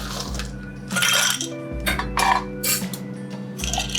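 Ice goes into a mixing glass for a Negroni in several separate bursts of clinking and clattering cubes, with a brief low rattle between them. The sound is close and moderately loud, and no one talks.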